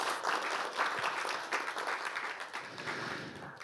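An audience at a Korean Social Workers' Day ceremony claps steadily for a few seconds, a moderately distant, even patter of many hands with no voices over it.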